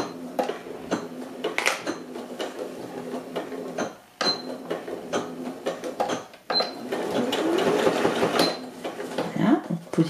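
Sewing machine stitching layers of fabric for a reusable tote bag, running in several close bursts with short pauses between, with mechanical clatter throughout.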